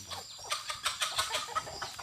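Backyard chickens clucking on a home farm, a rapid run of short, close clucks and squawks in quick uneven succession, with no talk.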